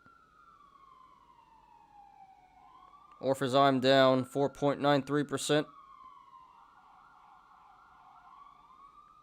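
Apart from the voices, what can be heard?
emergency vehicle sirens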